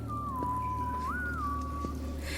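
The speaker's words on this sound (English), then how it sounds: "He's clearly evil. He's whistling." A character in the Dragon Age video game whistles a short, clear rising and falling tune alone over a low steady background hum.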